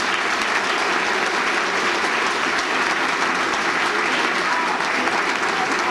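Sustained applause from a dinner-dance audience at a Columbus Day banquet, dense steady clapping filling the hall at a constant loud level throughout.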